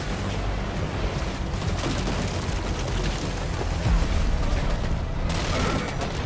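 Dense, continuous barrage of explosions and gunfire-like blasts in Call of Duty: Black Ops gameplay, loud and chaotic, with rumbling booms throughout.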